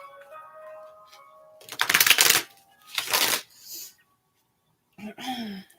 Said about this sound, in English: Now I'm going to pull some cards, just using the basic Rider-Waite tarot deck.